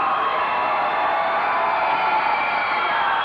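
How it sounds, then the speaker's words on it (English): A packed high school basketball gym crowd roars and shouts in sustained, loud displeasure at a referee's call, a dense wall of voices and whoops with no break. "And the Gate City fans are vocally upset at that one"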